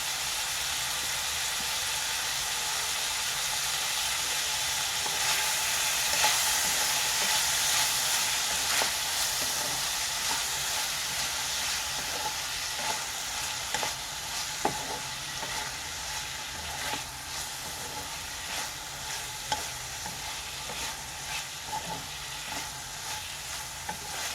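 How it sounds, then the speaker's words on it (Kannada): Ivy gourd (tondekayi) frying in oil, a constant close crackling sizzle with scattered small pops and occasional stirring taps throughout. "ಆದಷ್ಟು ಎಣ್ಣೆಲೇ ಸ್ವಲ್ಪ ಚೆನ್ನಾಗಿ ಅದು ಫ್ರೈ ಆಗಲಿ"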